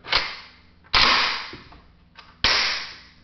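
Mechanical snaps from an AK-47 during an empty-chamber function test, three sharp metallic clacks spaced about a second apart, each with a short ringing decay, close and clear without speech.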